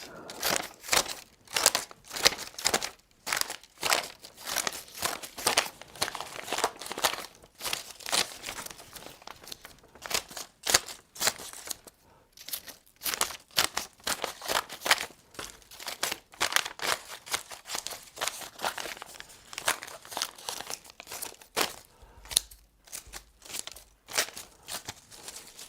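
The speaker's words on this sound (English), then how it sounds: "I've got a lot of confidential stuff to cut up" Confidential paper documents being cut up by hand: a steady run of close, crisp crinkling and tearing bursts with brief pauses, no talking.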